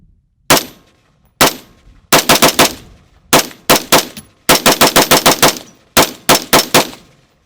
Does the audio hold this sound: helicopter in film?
no